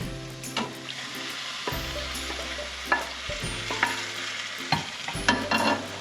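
Beef returned to a pan of spicy sauce, sizzling steadily while a utensil scrapes and clacks against the pan in irregular strokes, close and with no talk.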